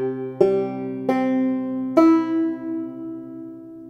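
A single plucked clawhammer banjo first string, tuned to open C, rings out three times, each pluck sustaining and decaying, with no talking.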